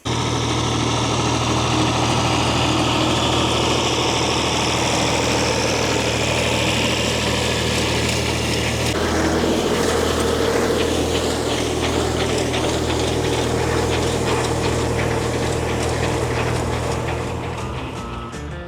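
A tractor with a haybob attached runs steadily nearby, its loud, even drone shifting in tone about halfway through and then carrying on without a break.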